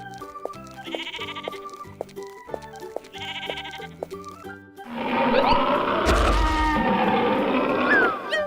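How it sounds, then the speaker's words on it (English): A cartoon sheep bleats in several wavering, nasal calls after a bright plinking musical jingle, sounding loud and up close over a busy backdrop. "Sheep."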